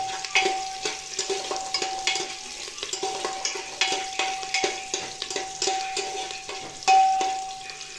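Chopped onion stirred and sautéed in a pan, the spoon scraping in steady strokes over a continuous close sizzle, with a couple of faint metallic clinks.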